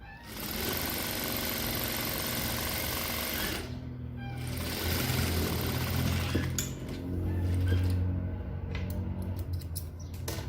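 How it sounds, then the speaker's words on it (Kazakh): Sewing machine stitching a bag made from fabric scraps, a steady loud mechanical whir running in long bursts with a couple of brief pauses, close and alone with no talk. "Соған дейін тігіп аламыз қазір."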